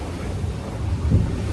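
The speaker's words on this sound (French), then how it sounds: "il y a 35 nœuds de vent" Wind of about 35 knots blows at sea aboard a racing yacht in the Vendée Globe, a loud, steady low roar with a gusting swell near the end and no voices.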